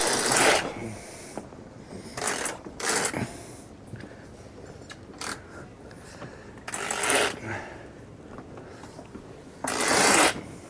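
A furling line being hauled in to roll up a sail aboard a JPK 39 FC sailboat, heavy with friction: repeated rasping bursts of rope running through gear, interspersed with quieter gaps, creaks and faint background noise.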